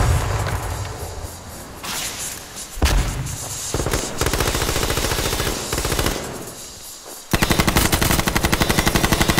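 Rapid automatic gunfire bursts from H1Z1 firefights, loud and close, with a steady machine-gun rattle, short pauses, then a final sharper burst of fast repeated shots.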